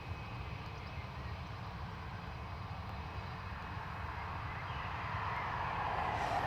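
An Aer Lingus Airbus A320 at Dublin Airport produces a faint, distant engine drone that swells gradually louder toward the end.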